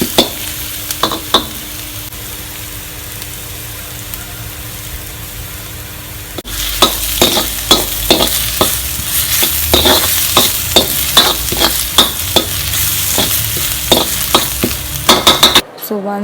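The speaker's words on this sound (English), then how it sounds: "So I'm just frying here." Garlic sizzles steadily in a hot pan, with repeated scraping and stirring strokes from a utensil cutting through the constant frying hiss.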